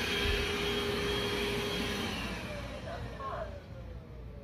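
A Xiaomi Dreame L10 Pro robot vacuum works across carpet, giving a steady, close broadband whir with a faint high whine that shifts slightly as it moves.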